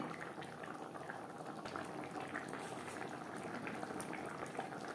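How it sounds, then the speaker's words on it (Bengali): Bata fish curry with vegetables simmering in gravy: a steady, soft bubbling and boiling hiss from the pot, continuous and even for the whole stretch, faint and close, with no talking. "গ্রেভির সাথে মাছ বেশ ভালো করে মিক্সড করে দেওয়ার পর 3-4 মিনিট রান্না করব।"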